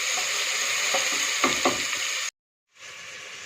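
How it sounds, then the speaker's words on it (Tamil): Chopped onions sautéing in a pan for tomato fried rice, a steady close sizzle with a few stirring scrapes, briefly cutting out before the frying resumes, no talking. "இப்போ அரிஞ்ச வெங்காயத்தை சேர்த்துக்கலாம். சேர்த்து ப்ரௌன் ஆகாத வரையும் வதக்கலாம்"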